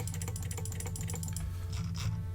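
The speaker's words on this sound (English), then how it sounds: "Then I just need to keep clicking those buttons." Mouse clicks on Hearts of Iron IV game interface buttons: a quick run of light, crisp clicks over a steady low hum, growing sparse toward the end, with no voices.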